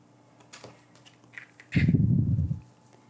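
A knife cuts through the end of a baked biscotti loaf, giving one dense, crunchy scraping burst of about a second after a few faint small taps, close and clear with no talk.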